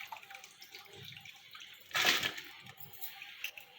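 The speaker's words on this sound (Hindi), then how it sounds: "मैंने 6 किलो पानी अंदर डाला है पकने के लिए।" Water splashing and pouring into a pot of soaked mixed lentils for haleem, soft intermittent trickles leading to a louder gush midway, close and fairly quiet.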